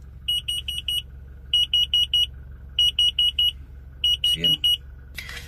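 A warning buzzer beeps in repeated bursts of four to five quick high tones, pausing between groups, loud and close, with a brief voice near the end.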